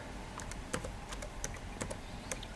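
Fast, uneven clicking of keys on a computer keyboard as a chart name is typed, heard close and fairly quiet over a faint background hiss, with no speech.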